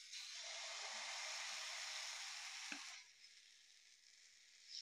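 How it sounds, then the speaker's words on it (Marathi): Rava dosa batter poured onto a hot, oiled iron tawa gives a loud, steady frying sizzle for about three seconds, then settles into a quieter hiss that swells again at the end. "तर आपण आता डोसा सोडून घेऊया."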